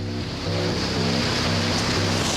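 Sea surf on a rocky shoreline with strong currents, a steady loud wash of breaking water filling the whole stretch, with a low rumbling undertone and no voices.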